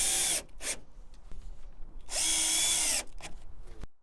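A power drill drives self-drilling screws into impregnated wooden laths on an exterior timber frame, whining in two bursts, a short one and then a longer high-pitched spin, with quieter scraping and handling noise between and no talk.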